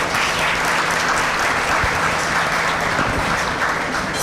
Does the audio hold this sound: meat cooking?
no